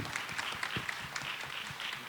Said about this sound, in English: So if we could just give a big round of applause for him.